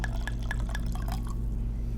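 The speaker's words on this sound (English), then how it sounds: "it's a bigger bottle than usual, okay? So you got to do a different kind of pour." Liquid dripping and trickling from a big bottle as a drink is poured, a run of regular close drops over about a second, then fading into a low background hum.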